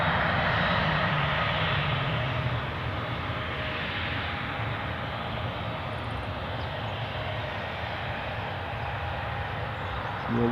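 A Boeing 737 bound for Dalaman at Newcastle Airport, its engines giving a sustained rushing roar that starts strong, eases slightly, then holds steady with a hiss on top, no voices.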